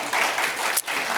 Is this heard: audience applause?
yes